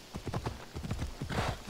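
Horse hooves beat a steady, quick clip-clop rhythm in the video game Assassin's Creed Odyssey, close and continuous, with a faint breathy rush near the end.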